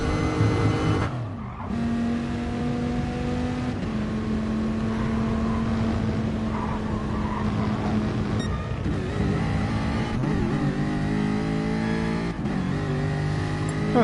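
Race cars lapping Spa in GT Sport, engines droning at sustained high pitch with gear shifts and rising revs, a loud continuous whine close by with no talking.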